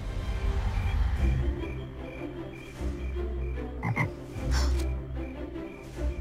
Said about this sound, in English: why frogs make such loud noises but have no ears